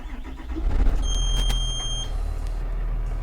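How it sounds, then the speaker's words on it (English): A school bus engine cranks and starts during a pre-trip inspection, a brief whir that catches into a steady low idle, close by, with short high beeps from a dashboard alarm. "Next, we will start the engine"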